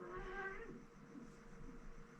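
A cat meows in a drawn-out, wavering call in the first half-second, followed by softer low murmuring and faint room noise; no one speaks.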